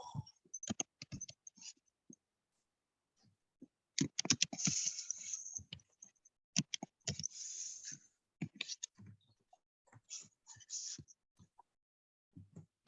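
Someone types a password on a computer keyboard during a Zoom host setup: quiet, close key clicks in uneven bursts with short pauses, tapping away through most of the stretch.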